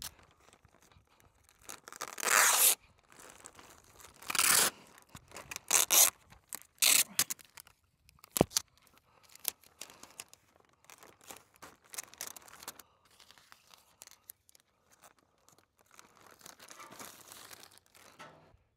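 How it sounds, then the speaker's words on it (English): Tyvek tape being torn off the roll and pressed onto a flap outdoors: sharp ripping bursts, then softer crinkling and rubbing as it is smoothed down. "I'm gonna take some Tyvek tape and tape this flap up."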